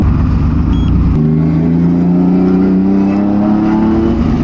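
A Subaru WRX STI fitted with an EG33 flat-six engine revs hard, a loud, close, throaty growl that climbs steadily in pitch after a sharp opening burst, with no talking over it.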